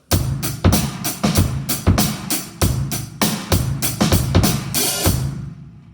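Loud, close drum kit drives a steady rock groove, then breaks into a busier fill of quick hits before ending on a crash.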